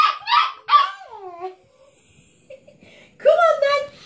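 Seven-week-old puppies yip and whine at supper time in short high bursts, with a person's voice talking near them.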